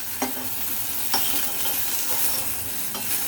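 Sliced okra sautéing in a hot pan, a continuous close sizzle broken by a few sharp scrapes of a spoon stirring.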